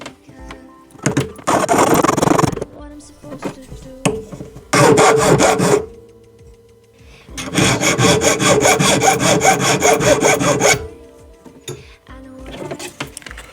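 A metal ring being filed by hand at a jeweller's bench, with loud rasping strokes in three long bursts separated by short pauses, the last burst fast and sustained.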